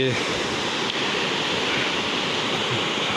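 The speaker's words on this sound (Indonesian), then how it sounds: "Ada aliran sungai guys. Nah, itu ada pintu air ya, pintu air di Sungai Curug Lawe" River water rushing past a sluice gate at Curug Lawe in Ungaran, a loud, steady broadband roar of flowing water that continues without a break.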